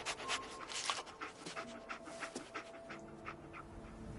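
Dogmeat, the dog in a video game, pants rapidly and steadily nearby, a run of breathy rhythmic huffs over a low game background.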